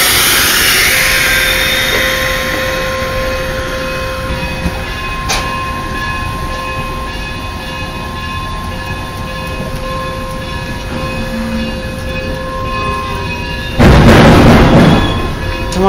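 A Durango and Silverton narrow-gauge train grinds to a stop with its air brakes, a steady loud rolling rumble and squealing tones ending in a sharp, loud burst of air release near the close.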